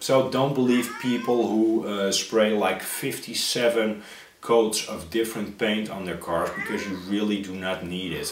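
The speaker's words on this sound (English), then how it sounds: "You can hear my cat going ballistic in the background" A house cat meows loudly and insistently, yowling again and again throughout, while someone talks steadily over it indoors.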